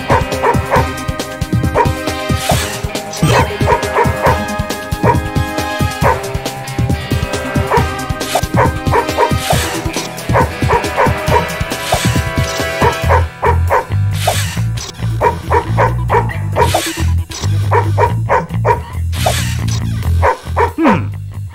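Dogs in the Madagascar 2 game bark and yip repeatedly in quick, rhythmic bursts, loud and dense, set against a busy musical soundtrack.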